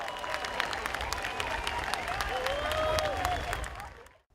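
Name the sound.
locals and tourists applauding the sunset in Rio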